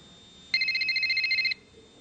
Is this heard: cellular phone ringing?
yes